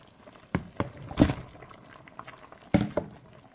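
Okra sauce pre-cooking at a boil in a pot, heard as quiet bubbling with a few irregular louder pops and gurgles spaced across the stretch.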